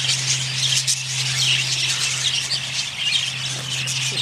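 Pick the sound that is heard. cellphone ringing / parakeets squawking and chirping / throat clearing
parakeets squawking and chirping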